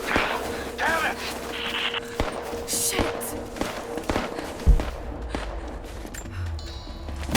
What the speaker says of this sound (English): That's taking quite a lot of gunfire.